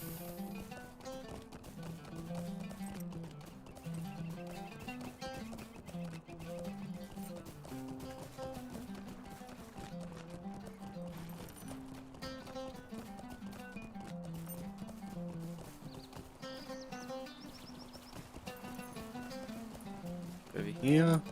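Horse hooves clip-clopping at a rhythmic, steady pace in the video game Lord of the Rings Online, continuing throughout at a moderate level beneath talking, with a brief louder burst at the end.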